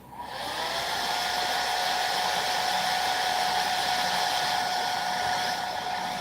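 A dryer blows hot air to dry paint on a customized Bane figure, a steady loud whirring hiss that holds evenly for about six seconds with no voices.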